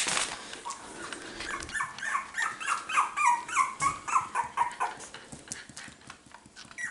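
Four-week-old Cockapoo puppies whimpering and squeaking in a rising and falling series of high cries, close, over soft shuffling and scratching, with no talking.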